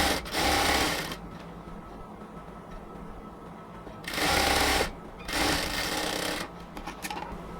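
A sewing machine stitches the body seam of a luxury cotton kameez in three loud mechanical bursts, the first and last each about a second long and the third longer, with quiet pauses between them.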